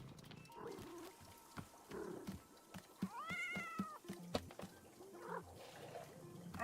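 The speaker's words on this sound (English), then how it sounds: "I heard the meow." A cat meows from a radio in the video game Wanderstop, sounding as several short rising and falling cries among scattered clicks and faint background noise.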